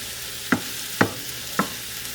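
Beef sautéing in a pan: three evenly spaced scrapes or stirs of a utensil rise over a faint, steady sizzle, each a short sharp burst.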